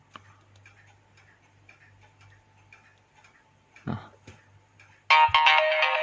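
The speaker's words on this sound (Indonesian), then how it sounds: "Tapi memang asli ringtone Nokia." Genuine Nokia ringtone downloaded through the browser and played on a Nokia N97 phone: faint ticking first, then a loud, bright melodic burst near the end, close to the microphone.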